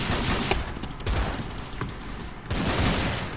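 Rapid shots from a Colt 1873 revolver in a shooter game crack out in quick, uneven bursts, loud and close, with several fast reports running together and a brief pause before another volley.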